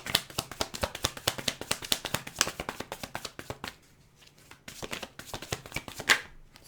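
Tarot cards riffled and slapped in a quick, dense run of crisp flutters, a short pause, then a few more card flicks and single cards laid down close by.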